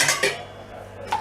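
Utensil clinks against a bowl while tomato sauce ingredients such as sugar and salt are mixed, two or three close, light scraping taps with a pause between.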